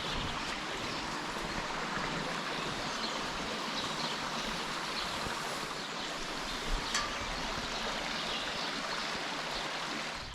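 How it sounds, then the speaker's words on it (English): Ribeira Grande river on São Miguel in the Azores, heard on a hike near Lagoa do Fogo: a steady, close rush of flowing water, continuous and broadband throughout with no talking. "I just realized the river here is the Ribeira Grande."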